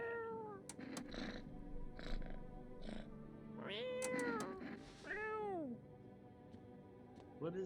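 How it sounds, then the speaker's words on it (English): A cat in the horror game No I Am Not a Human meows several times, clear rising-and-falling cries close by, separated by short pauses over a low background. "Oh, look at the"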